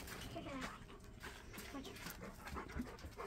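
A dog pants quickly and repeatedly close by at an outdoor evening barbecue under a shelter, with people talking over it throughout.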